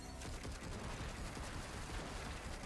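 Dense, continuous rapid gunfire from the video game Darksiders Genesis, a loud sustained barrage of overlapping shots with no gaps and no voices.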